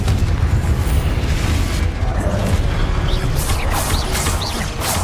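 Confringo fire-blast spell explosions in the Hogwarts Legacy video game, with heavy, booming bursts and crackling impacts that run continuously through a busy, loud stretch of combat.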